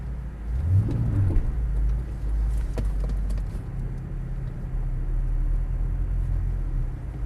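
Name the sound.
Ford Mustang Bullitt engine revving while drifting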